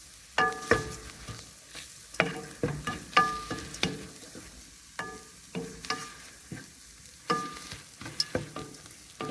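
Beef roast masala frying in a pan, stirred repeatedly so sharp scraping and clattering strokes land every second or so over a steady low sizzle; close and fairly loud, with no voices.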